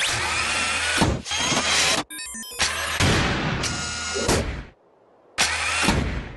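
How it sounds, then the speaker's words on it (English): An ice drill activates in an animated cartoon: loud, harsh mechanical whirring and grinding bursts, broken by abrupt cuts and a short silence before the racket starts again. "Deploying ice drill."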